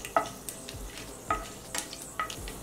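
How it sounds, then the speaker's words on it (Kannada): Chana dal fries in a little oil with cumin, a soft crackling sizzle broken by a few light stirring scrapes of a spoon against the pan. "ಕಡಲೆಬೇಳೆ ಸ್ವಲ್ಪ ಫ್ರೈ ಆಗಲಿ."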